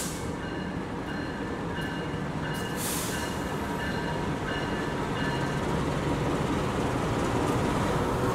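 An Indonesian Malabar train rolls into a station platform on track two, a steady loud rumble of wheels and carriages with faint rhythmic clicking and brief high squeals over the ambient noise.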